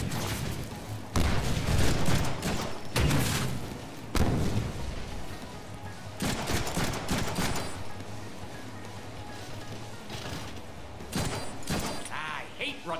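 Gunfire in the Deadpool video game, with repeated loud bursts of rapid shots and impacts that come and go in clusters over a continuous game soundtrack.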